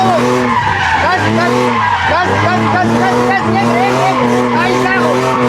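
A car drifting at full throttle, its engine held at high revs in a loud, continuous howl with rising and falling pitch sweeps, close up, with a voice shouting over it.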